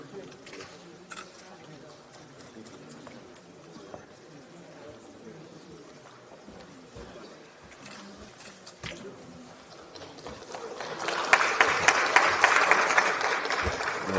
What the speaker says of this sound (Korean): 아이고, 박수 주셔서 감사합니다.